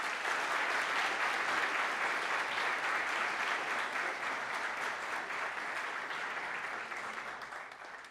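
Sustained crowd applause at a government cabinet swearing-in ceremony in Colombia, a broad, even wash of many hands clapping that holds for several seconds and slowly tapers, heard at some distance.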